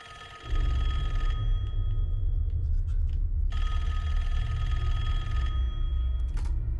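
An old-style telephone bell rings loudly in Call of Duty Black Ops 6, a sustained metallic trill over a heavy low rumble, cutting out briefly midway before resuming.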